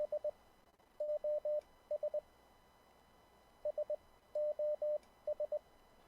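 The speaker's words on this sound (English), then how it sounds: "it's Morse code, and it's 3 letters" Morse code SOS on an amateur radio tone: clean, clear beeps in groups of three short, three long and three short, sent twice with a pause between, and no voices.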